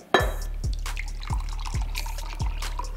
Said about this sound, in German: Okay, ich schenke es ein.